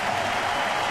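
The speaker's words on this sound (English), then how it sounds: "will get a large round of applause from the fans in attendance today" Steady, dense applause from baseball fans at a Chicago-at-Detroit game as pitcher Porcello leaves the mound, a broad crowd wash that stays even and sustained for under a second.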